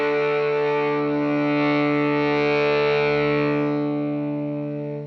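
An electric guitar played through an FX100 multi-effects processor into a Marshall cabinet, with the guitar's volume knob turned down, rings out as a sustained distorted chord that holds steady for about five seconds before cutting off.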